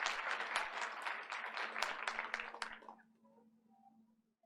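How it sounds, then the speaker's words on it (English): Audience applause at a school board meeting honoring staff, a burst of dense clapping from a room that fades out after about three seconds into quiet hum. "Let's give her another round of applause."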